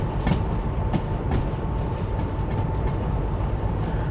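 Train cars rolling along rails in the railway simulation game Derail Valley, a steady low rumble with faint periodic clicks of wheels over rail joints, continuous and moderately loud with no talk.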